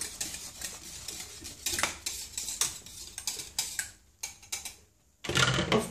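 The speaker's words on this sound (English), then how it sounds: "stir it with a whisk every now and then, just to let the hot air out and not to have an overflow" A whisk clinks and scrapes against a pot while stirring a thick green tea soap mixture, giving an irregular run of close metallic taps and rattles. It goes briefly quieter near the end, then the scraping resumes loudly.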